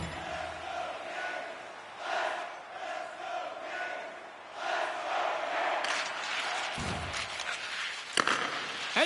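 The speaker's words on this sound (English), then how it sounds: "you can feel the energy in this crowd" Arena crowd in an NHL 25 hockey game during a tied Stanley Cup Final, a steady roaring swell of cheering that rises and falls, with a sharp thud near the end.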